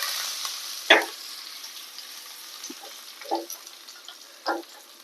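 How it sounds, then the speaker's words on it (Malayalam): Faint, steady sizzling of oil with a sharp crackling burst near the start as curry leaves and mustard seeds hit the hot oil, followed by a few softer pops and spatters. "നമുക്ക് കറിവേപ്പില ഇട്ട് കൊടുക്കുക"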